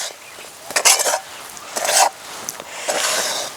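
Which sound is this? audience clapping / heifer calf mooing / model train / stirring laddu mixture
stirring laddu mixture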